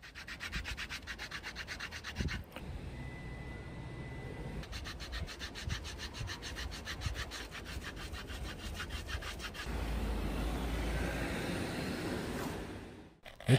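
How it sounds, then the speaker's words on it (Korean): Sandpaper is rubbed along the edge of a leather headband for a Bose QC35, giving close, rhythmic scratchy strokes in quick repeated bursts with brief pauses, and no voices. "사포를 이용해 단차를 줄여주고 형태를 잡아줍니다."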